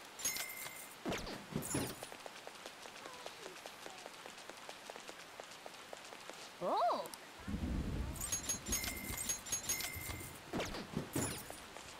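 Rain and rumbling thunder from the video game Persona 5 Royal, a steady patter with a low roll of thunder building in the second half.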